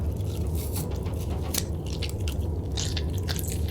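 A survival character in the video game The Long Dark eats a snack, with wet biting and crunchy chewing sounds repeating close up over a low rumbling background.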